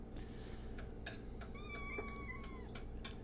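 Cats meow nearby, giving several short calls and a longer rising meow in the middle, heard over a quiet steady background.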